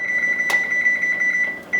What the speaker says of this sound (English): as soon as we hear the timer, it's been 15 minutes with the stove off